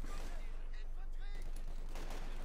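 Rifle fire from a Company of Heroes 2 battle, including SVT-40 semi-automatic rifles, heard as a quick run of sharp shots amid a busy, steady wartime din with voices mixed in.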